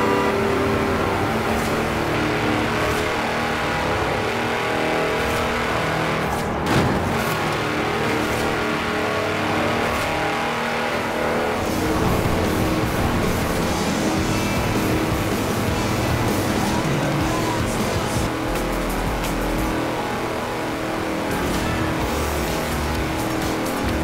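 Tractor engine in the Forza Horizon 4 racing game revving hard at high speed, a loud, dense, continuous roar that holds steady throughout, with occasional brief shifts in pitch.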